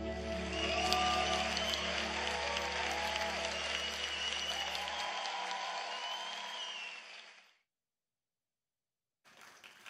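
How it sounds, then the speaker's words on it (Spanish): A church congregation at a Spanish-language worship service in Orlando, Florida, applauds loudly and steadily for several seconds over sustained organ or keyboard tones. The applause trails off into silence, and a brief burst of sound follows near the end. "Dale ese aplauso bien fuerte, bien fuerte"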